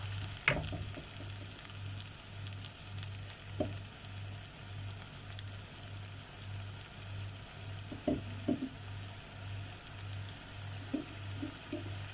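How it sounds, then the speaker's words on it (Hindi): King fish masala curry frying in a pan gives a steady, soft sizzle throughout, with a few scattered clicks and scrapes of stirring, close by and without talk. "अब इसको फ्राई करना है कि मसाले का स्मेल ख़त्म हो जाए, तब तक इसको फ्राई करना है।"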